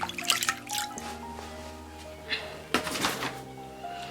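Water dripping and splashing as skin is rinsed, with scattered close drips and small splashes over a faint background hum.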